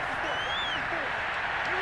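Stadium crowd roar in the Madden 22 football video game, a Bengals vs Chiefs simulation, swelling steadily ahead of a big third down, with faint whistle-like tones drifting over the sustained cheering.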